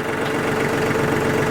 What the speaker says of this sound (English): let me shut this tractor down